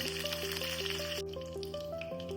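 Curry leaves dropped into hot oil for kale thoran, giving a bright, steady sizzling hiss under a simple melodic tune.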